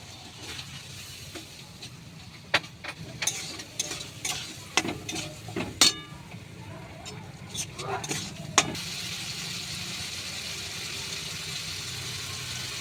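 Mixed spices with a splash of water fry in a pan for potol chingri (pointed gourd with prawns): a steady, soft sizzle with scattered sharp clicks and scrapes as the mixture is stirred, then a calmer, continuous hiss.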